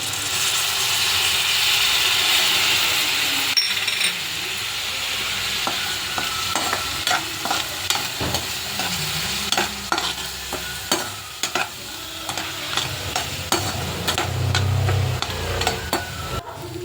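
Food stirred and fried in a pan with lemon juice being added, a steady sizzle and hiss running throughout with repeated scraping strokes of a utensil, close and fairly loud.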